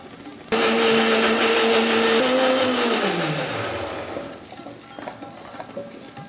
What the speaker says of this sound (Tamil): இப்போ இந்த பச்சை மிளகா ஒன்று போட்டு அடிக்கணும்.